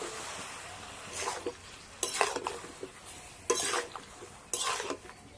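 Pieces of bottle gourd go into a pot holding a little water and salt on the stove, with several bursts of scraping and clinking from stirring amid a low background hiss.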